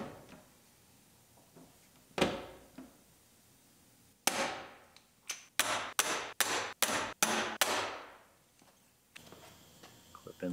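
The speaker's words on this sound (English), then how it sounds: "And we'll use the hand-powered pneumatic riveter." A hand-powered pneumatic riveter sets rivets while weather stripping is fitted on a repaired 2017 GMC Terrain Denali: an early hit, then a run of seven or eight sharp, evenly spaced pops, loud and close, with no talk.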